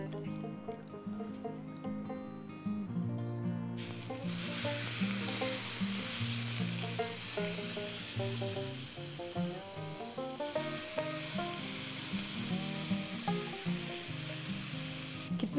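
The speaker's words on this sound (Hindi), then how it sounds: "और अब मैं इसके अंदर ये बैटर डालने वाली हूँ।" Rava dosa batter poured onto a hot tawa, sizzling loudly and steadily with a sudden rise in intensity as it hits the pan, accompanied by background music and no talk.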